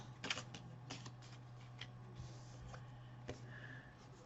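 Tarot cards being shuffled before a final draw, a faint, soft riffle of papery flicks and taps with a steady low hum underneath and no voices.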